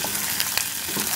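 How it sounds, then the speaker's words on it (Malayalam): Okra and onion sautéing in hot coconut oil for sambar: a close, continuous sizzle with soft stirring scrapes. "നമുക്കൊന്ന് വഴറ്റിയെടുക്കാം"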